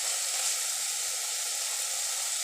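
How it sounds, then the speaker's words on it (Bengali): Spice paste with Kashmiri chilli frying in a pan for a Bengali pabda fish dish, a steady, soft bright sizzle that holds evenly throughout with no voices. "দেখুন মশলাটা আমার আস্তে আস্তে ভাজা হয়ে আসছে।"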